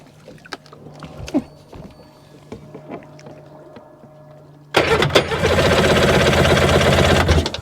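After a few seconds of quiet clicks and rustling, a Sea-Doo jet ski with an RFI 787 engine cranks loudly and continuously for about three seconds in a hard start, the starter churning without the engine catching.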